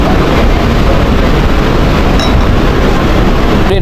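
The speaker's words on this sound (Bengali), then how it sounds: "ট্রেনটা আবারও 5 মিনিট দাঁড়ানোর পর আবার চলা শুরু হয়ে গেল" A passenger train starts moving again after a stop on the Farakka Barrage. Its loud, dense rumble with wheel noise runs without a break throughout.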